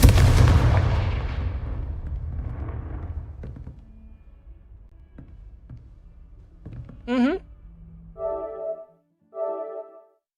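Confringo fire-spell blasts in the video game Hogwarts Legacy open with a heavy, booming explosion that fades into rumbling debris and scattered thuds, followed by a warbling magical whoosh and game tones.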